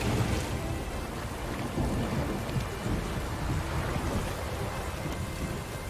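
Steady heavy rain with rumbling thunder during a thunderstorm in The Witcher 3: Hearts of Stone, a dense continuous roar at even loudness with low booming swells and no voices.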